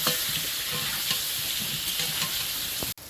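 Steady oil sizzle of potatoes frying in a pan, with occasional stirring scrapes, continuous and close, ending with a brief cut.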